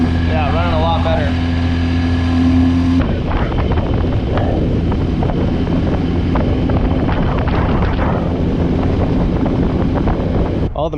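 A cheap used outboard boat motor, freshly repaired, runs steadily on the water. Its droning hum is clear at first, then heavy wind buffeting the microphone largely drowns it out.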